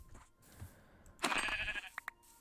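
A single Minecraft sheep bleats once, clear and fairly close, followed by a couple of short clicky game sounds, with quiet game background before it.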